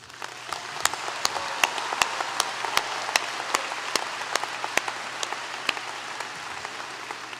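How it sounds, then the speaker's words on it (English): A commencement crowd applauds graduating doctors, a soft, distant sea of clapping with sharp individual claps popping out near the front, sustained evenly throughout. "please join me in a round of applause for those learners who are about to be conferred as doctors"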